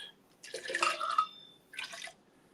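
Water being poured into a pot while cooking a healthy garlic recipe, two cups measured in: a splashing pour of about a second, a short pause, then a brief second pour, close and fairly quiet.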